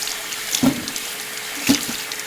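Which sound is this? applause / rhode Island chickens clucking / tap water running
tap water running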